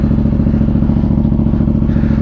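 Yamaha FZ-07 motorcycle with an aftermarket exhaust, its engine running right after starting, a loud, close, steady pulsing idle with a throbbing low rumble.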